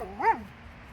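A single short dog bark or yelp with a rising-then-falling pitch, close by and alone against a quiet background.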